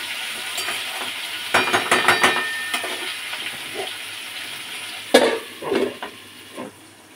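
Okra fries in a pan with a little sugar, turmeric and salt, giving a soft background sizzle. Several louder bursts of stirring and clattering cut in near the start and again toward the end.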